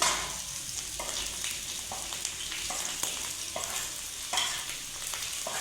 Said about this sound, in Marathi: कांदा मसाला छान मस्त परतून झालेलं आहे आता याच्यामध्ये बाकीचे मसाले टाकते